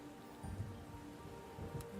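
Rain falling steadily, a soft continuous patter with a few slightly heavier drops, faint and without voices.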